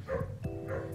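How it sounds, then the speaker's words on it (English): A pet dog nearby gives two or three quick, fairly soft barks in a brief burst, heard indoors with no talking over it. "That's my dog for you."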